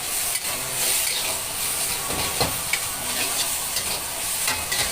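Noodles stir-fried in a hot pan with dark soy sauce, oyster sauce and water give a steady loud sizzle with scraping stir strokes and occasional clinks, close up with no talking.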